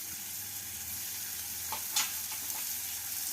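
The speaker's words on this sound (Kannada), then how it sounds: "ಶುಂಠಿನ ಚೆನ್ನಾಗಿ ಫ್ರೈ ಮಾಡಬೇಕು." Ginger fries in ghee, a faint steady hiss of sizzling fat with a brief stirring scrape near the middle, quiet and close, no voices.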